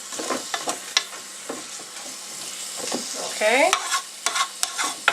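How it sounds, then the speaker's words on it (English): A spoon stirs seasoned pot roast vegetables in a pot, scraping and clattering in irregular strokes over a soft sizzle, up close, with one short spoken word near the end. "You want to give it a nice good stirring."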